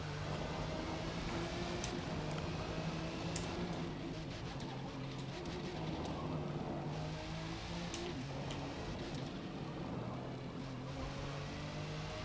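McLaren P1 engine in Forza Motorsport roars steadily throughout, a dense, loud drone whose pitch shifts slowly as the car runs a lap.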